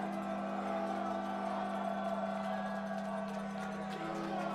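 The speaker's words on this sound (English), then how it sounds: "And listen to that Chapman crowd." Crowd at a college football game between Chapman and Hardin-Simmons cheering from a distance, a faint steady roar and murmur under a constant broadcast hum, with a few scattered whoops.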